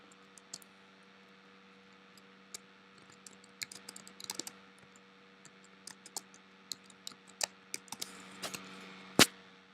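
Soft, irregular keystrokes tapping on a computer keyboard while text is edited in a document, quiet and close, with scattered clicks and a slightly louder final keypress over a faint background hum.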